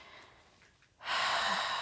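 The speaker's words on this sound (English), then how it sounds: "Breathing in, diaphragm's going up. Breathing out, diaphragm is going down." Close, quiet human breathing: a soft, barely audible intake gives way to a louder, steady airy exhale hiss lasting almost a second, with no speech.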